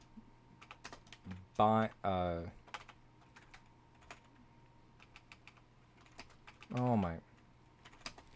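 Quick soft keystrokes on a computer keyboard patter close by during game development work, interrupted by brief casual speech and exclamations.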